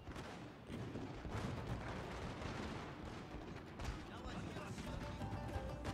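Massed gunfire volleys crackle from units firing at will during a Total War: Shogun 2 siege battle, a dense, continuous barrage of shots and booms with a voice talking over it.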